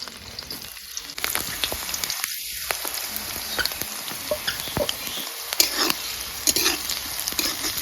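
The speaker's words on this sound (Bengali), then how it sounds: "কাঁচা লঙ্কা আর পেঁয়াজ কুচিটাকে একসঙ্গে ভাজে নিব" Green chillies and chopped onion frying together in a pan of oil, a close, steady crackling sizzle with a few brief dips and scattered sharp spits and stirring scrapes, and no voices.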